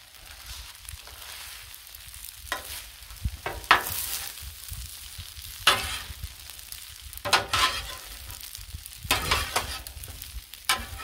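Shrimp and ham being stirred into Cajun fried rice on a Blackstone flat-top griddle, with a soft sizzle beneath a spatula's irregular metallic scrapes and taps, growing louder toward the end.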